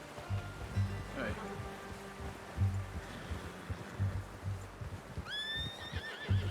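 A horse in Red Dead Redemption 2 whinnies clearly near the end after steady hoof clip-clops throughout, heard under people talking.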